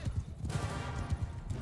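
Horse hooves clop in Mount & Blade II: Bannerlord, a steady galloping rhythm of low thuds close by, repeating several times a second over a dense battlefield background.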